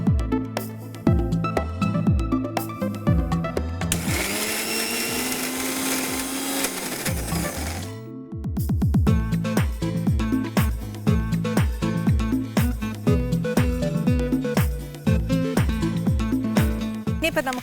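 A mixer grinder whirs loudly for about four seconds, grinding a masala paste with vinegar for a kerala-style seer fish (neymeen) roast, amid busy kitchen clatter before and after.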